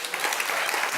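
A crowd claps steadily, a dense wash of applause at moderate loudness filling the whole moment with no voices standing out.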